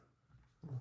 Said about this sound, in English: Dog growling outside.